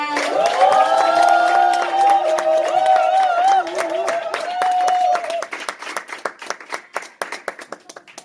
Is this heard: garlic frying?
no